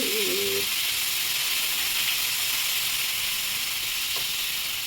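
Thinly sliced onions frying with curry leaves in hot oil, a steady loud sizzle and hiss that runs without a break, with a brief clink near the start.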